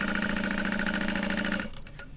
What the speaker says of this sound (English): And then I'm gonna sew this and pivot down at the bottom